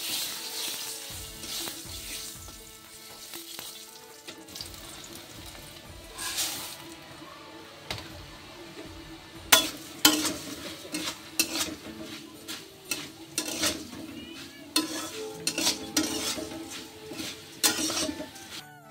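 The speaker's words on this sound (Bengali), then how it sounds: "মুড়িটা একটু পেঁয়াজ আর হচ্ছে একটু শুকনো লঙ্কা দিয়ে ভাজা করে নিচ্ছি" Puffed rice frying in a pan with onion and dried chili, with a steady soft sizzle under repeated scraping and clattering stirs that grow louder and sharper toward the end, no talking.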